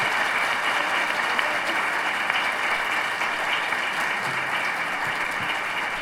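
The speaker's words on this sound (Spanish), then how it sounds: "Le damos un aplauso." Sustained applause from an audience at a book fair presentation, steady and dense throughout, fairly loud and filling the room without talk over it.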